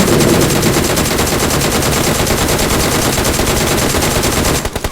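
Rapid automatic gunfire in PUBG Mobile on the Livik map rattles on continuously and loudly for several seconds in dense bursts before cutting off near the end.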